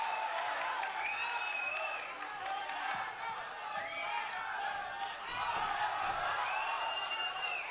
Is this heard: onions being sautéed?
no